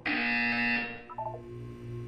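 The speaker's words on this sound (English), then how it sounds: "When you hear the buzzer, look up at the ceiling" A harsh electronic buzzer from Portal 2 blares loud and steady for about three-quarters of a second, then cuts off sharply. A low hum and faint tones follow.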